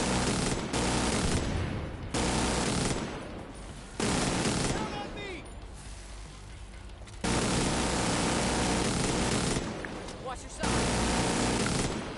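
Rapid bursts of gunfire from shooting in The Division 2 video game, several loud sustained volleys separated by short pauses, with game sounds filling the gaps.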